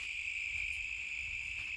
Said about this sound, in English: Listen to the crickets.